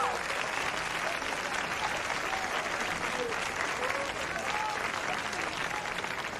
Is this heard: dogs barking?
no